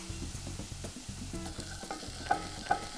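Chopped garlic and curry powder cooking in a pan, a low crackling sizzle broken by repeated rhythmic stirring scrapes and a couple of light utensil clinks, close and fairly quiet, no voices.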